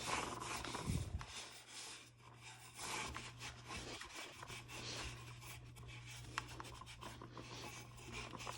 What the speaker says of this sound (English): I'm just gonna take a rag, and I'm just gonna rub this in